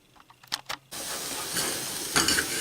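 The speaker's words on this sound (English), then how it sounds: "So the onions and garlic are frying in the palm oil." Onions and garlic sizzle steadily and loudly in palm oil in a pan after a few brief clinks at the start, a constant crackling hiss with a slight surge near the end.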